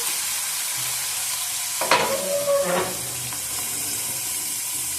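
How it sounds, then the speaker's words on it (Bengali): Sugar frying in a pan gives a steady, close sizzling hiss throughout, with a short burst of stirring and scraping in the middle. "এবার চিনিটা ফ্রাই করবো।"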